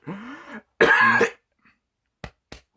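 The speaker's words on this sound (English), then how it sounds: "I don't want a video of me just coughing." A man coughs and clears his throat in a couple of harsh, rasping bursts, followed by two short, sharp coughs after a pause; close and loud, with no talking.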